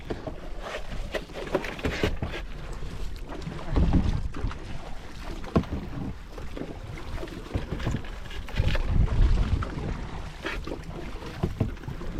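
Strong, gusty northeast monsoon wind (amihan) roars and buffets the microphone in heavy rumbling blasts, swelling and easing without a break.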